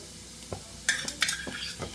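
Onion with ginger, garlic and green chili paste stirred in a frying pan, several quick scraping strokes of a spoon over a soft sizzle, close and fairly quiet.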